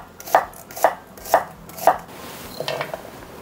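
A knife slices an onion into thin strips on a cutting board, four crisp, evenly spaced thuds close by, followed by a softer flurry of lighter cuts, with no talking.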